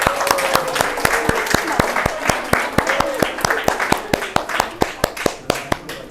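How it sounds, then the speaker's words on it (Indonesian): Classroom applause from a group of students, with loud, uneven claps coming in a quick rhythm and a voice talking faintly under them. "Tepuk tangan untuk kita semuanya ya."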